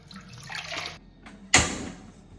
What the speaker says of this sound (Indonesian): Aja lali dikumbah kangkunge enoki, aja lali dikumbah.